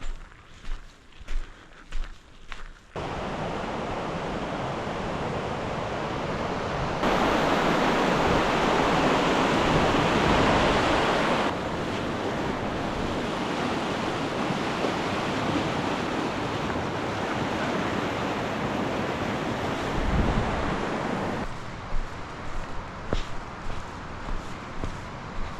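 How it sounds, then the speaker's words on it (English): Fast-moving water rushes steadily around a rock in the middle of a lake, a loud, continuous roar close by, mixed with wind buffeting the microphone, with a few sharp knocks near the start and end. "Yup, fast water."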